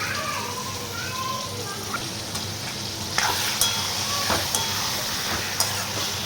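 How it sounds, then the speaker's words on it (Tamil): Lamb liver fries with onion and ginger-garlic paste in a hot pan, giving a loud continuous sizzle with sharp scattered pops and the scrape of stirring. "நம்ம வெங்காயமும் இஞ்சி பூண்டு பேஸ்ட்டு அது கூட இந்த ஈரலை போட்டு நல்லா ஃப்ரை பண்ணி விட்டுக்கலாம்"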